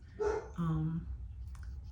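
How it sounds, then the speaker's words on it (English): A dog indoors barks at a window, giving two close, loud, tonal barks in quick succession before falling quiet. "She's still barking."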